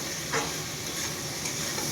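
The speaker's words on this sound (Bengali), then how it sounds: "এই দেখো আমি কি রান্না করছি, পেঁয়াজ কলি আলু ভাজা।" Onion stalks and potatoes fry in a pan with a loud, continuous close-up sizzle and brief stirring scrapes, with no voices over it.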